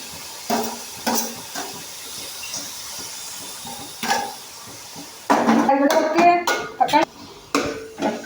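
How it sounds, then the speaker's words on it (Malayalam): Tomatoes go into a hot pan of softened onions and chicken for a Kerala-style nadan chicken curry, bringing soft hissing, clatters of a spoon against the pan, and a louder burst of clanking and sizzle near the end. "ഇനി നമുക്ക് തക്കാളി ഇട്ട് കൊടുക്കാം."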